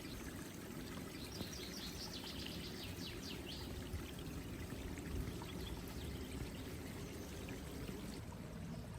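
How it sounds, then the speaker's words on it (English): Water pours and splashes steadily from a folded plastic sheet at a clear mountain spring, a faint continuous trickling with distant bird calls in the background. "he dips it into a crystal, clear mountain spring"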